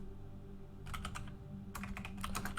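Keys clatter on a computer keyboard in two quick bursts of close, crisp clicking over a low steady hum, with no voices.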